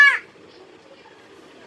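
A single short bird call, like a crow's caw, sounds at the start, followed by quiet background noise.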